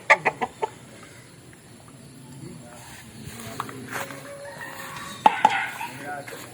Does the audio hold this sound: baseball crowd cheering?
no